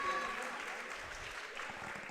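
Crowd applause at a boxing match in Cannock for the two fighters after a second-round TKO, a steady broadband clatter of clapping with a voice talking over it.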